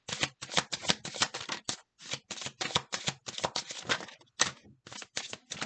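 Tarot cards are shuffled by hand in quick, close bursts of crisp riffling that repeat in clusters with short pauses, alone and fairly quiet.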